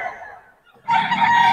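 A rooster's crow rings out among chickens, with a brief clucking call first, a short pause, then a loud, sustained crow close by.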